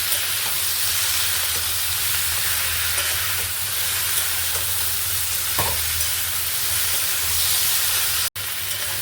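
Ridge gourd and other vegetables frying in a pan, a continuous close hiss and sizzle with a brief scrape of stirring partway through, and a sudden cut near the end.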